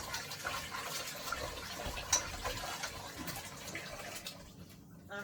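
Chicken feet are rinsed in fresh water, with soft continuous splashing and trickling close by at low level, a brief louder slosh midway, then quieting near the end.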